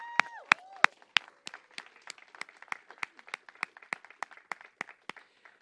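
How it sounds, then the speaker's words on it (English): Scattered clapping from a small outdoor crowd at a Venice Boulevard mobility project ribbon cutting, sparse individual claps spread steadily across the moment rather than a dense roar, after a brief opening sound. "A round of applause for all the community members, Metro, and LADOT staff who helped turn this vision into reality."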